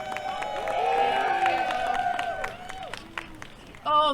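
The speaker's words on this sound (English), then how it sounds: "Give a big hand of applause to Sue." A protest crowd applauds and cheers for Sue Pederson, a scattered, moderately distant wash of clapping and voices lasting a few seconds, fading, then a brief louder burst at the end.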